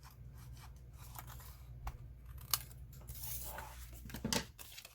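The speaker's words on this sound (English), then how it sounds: "Now we want to open it up and trim off this excess here at the bottom." Scissors trim excess paper off the bottom of a folded greeting card, giving a few quiet, close snips and crisp paper rustles in a hushed room.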